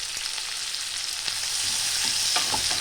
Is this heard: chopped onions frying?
yes